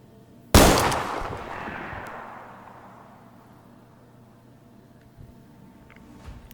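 A single sharp gunshot fires in the VR shooter game Zero Caliber, loud and close, followed by a long decaying reverberant tail that fades into quiet with a few faint clicks.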